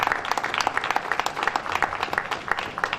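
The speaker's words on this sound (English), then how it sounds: "So actually deserves a standing applause for this." A hall crowd at an alumni reunion gives sustained, dense applause for an 87-year-old patron, with many hands clapping close and loud throughout.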